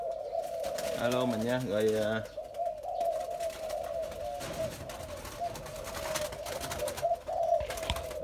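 A young Malaysian spotted dove at a bird farm gives a close, clear cooing phrase of a few rolling notes early on, while someone speaks briefly over it and traffic-like background noise continues.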